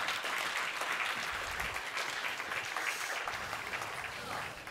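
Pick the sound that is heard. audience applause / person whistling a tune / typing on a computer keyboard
audience applause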